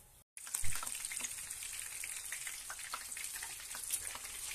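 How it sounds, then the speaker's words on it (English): Fish sizzling steadily in hot frying oil, a dense continuous crackle with small pops throughout, close and fairly loud with no voices. "we're going to fry these for about 5 minutes on each side until they're nice and golden brown"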